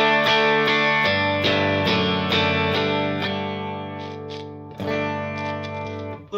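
Nash Telecaster electric guitar played straight into an amp with a touch of RV5 reverb: a sequence of ringing strummed chords with a reverberant tail, then a final fresh strum, no voices.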